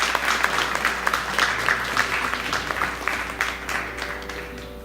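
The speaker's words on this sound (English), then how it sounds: "Give another huge round of applause to these kids." Audience applause for children performing at a music academy fundraiser concert, dense and steady clapping from a crowd that tapers slightly toward the end, with a faint background hum.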